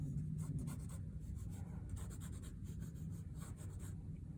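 A pencil scratches across paper sketching an egg shape, close and steady with rhythmic strokes and brief pauses, no voices.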